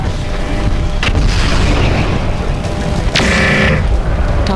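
Booming explosions of a destroyed mech in the MechWarrior 4: Mercenaries video game, with loud blasts around one and three seconds over a continuous dense rumble of battle noise.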